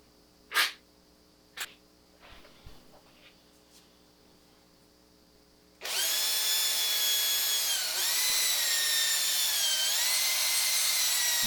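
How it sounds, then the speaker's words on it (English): A drill spins a serrated wooden dowel used as a mixer while ebony side panels are made for a Denon DR-M44 rebuild. A few sharp knocks and rubs come first, then the motor starts and whines steadily and loudly, dipping briefly as the load shifts. "I've got a wooden dowel chucked in a drill with some serrations in it"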